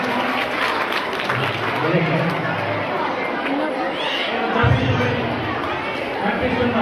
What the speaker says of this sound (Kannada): ಜೋರಾಗಿ ಚಪ್ಪಾಳೆಯೊಂದಿಗೆ ಸ್ವಾಗತಿಸಿ ಪುರುಷೋತ್ತಮ ವೇದಿಕೆ ಮೇಲೆ ಬರ್ತಾ ಇದ್ದಾರೆ